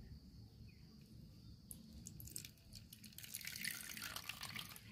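Hot water poured from a kettle into a coffee cup in a home kitchen, a steady liquid stream with light splashing that grows louder near the end, over a low background hum.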